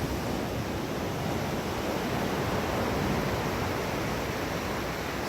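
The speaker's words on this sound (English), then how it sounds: "And the waves just keep on rolling in." Waves rolling in on a very flat sand beach in New Zealand, a steady, broad wash of surf that stays loud and unbroken throughout with no voices.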